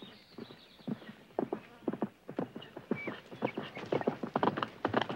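Horse hooves clip-clop in an uneven, close rhythm, a run of hollow knocks that speeds up and clusters toward the end.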